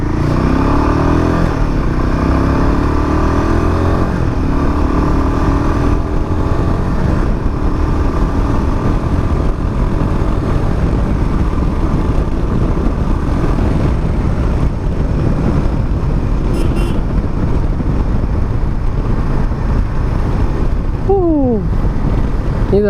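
A Royal Enfield Himalayan 450 rides along in economy mode, its engine humming steadily and close under constant heavy wind rush, with rising tones suggesting gear changes near the end.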